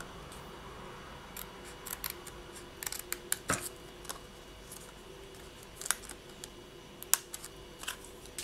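Scissors snip out polymer clay butterfly earring pieces close by, a series of irregular sharp cuts spaced across the moment, faint and crisp over a quiet room with no talking.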